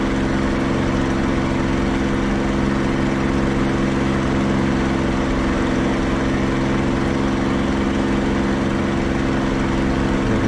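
A P-51 Mustang's piston engine at full throttle in DCS World drones as a steady, dense, loud roar with an unbroken low hum, continuous throughout with no talking.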